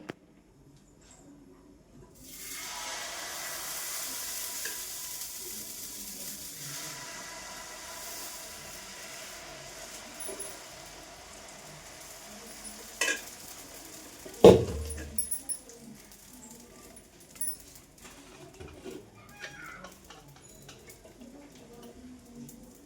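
Dosa batter sizzles on a hot pan, a steady broadband hiss rising suddenly and then continuing under faint clatter and a few sharp knocks from utensils.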